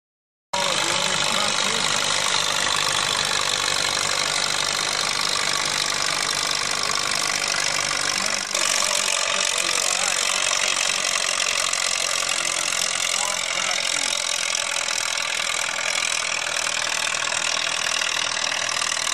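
An antique tractor engine roars at a tractor pull at the Agassiz Fair, loud and close, holding a dense steady drone for the full length with one brief shift midway.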